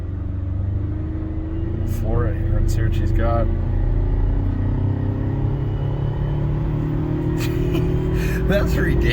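A Ford Ranger pickup towing a roughly 9000 lb trailer pulls hard at full throttle, a steady loud engine drone rising in pitch throughout, with brief talk and gasps from the cab layered on top.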